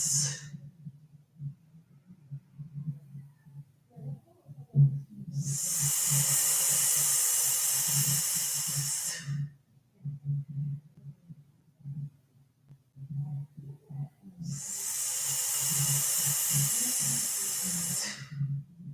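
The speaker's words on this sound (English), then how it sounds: "3 breaths with that little hiss sound" Two long, slow hissing exhales, several seconds each, separated by quiet pauses with a soft steady background pulse.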